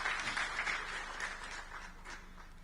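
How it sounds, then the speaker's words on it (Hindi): Applause from an audience at a public discussion forum in Raipur, a steady wash of clapping lasting a few seconds at moderate distance, with no voices over it. "तो चाहूंगा एक बार जोरदार तालियां उनके प्रयासों के लिए।"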